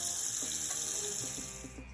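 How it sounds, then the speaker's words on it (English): Water from a kitchen tap pours steadily into a pot of beans, a constant hissing rush with a few small splashes as the pot fills. "So we're just going to fill this back up with water again."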